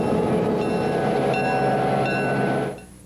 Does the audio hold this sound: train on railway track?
yes